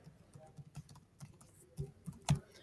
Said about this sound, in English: I'm just going to click anywhere and start typing